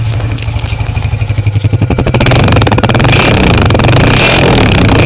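A Honda CD70 motorcycle's silencer exhaust close by: a steady pulsing idle thump that quickly builds into a loud, dense rev and holds there.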